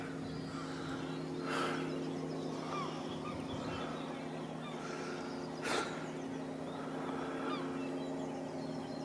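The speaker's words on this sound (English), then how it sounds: "I think there's some geese in this farm. They were just announcing they detected a passerby." Geese on a farm give two short honks, distant and fairly faint, a few seconds apart over a steady low outdoor hum.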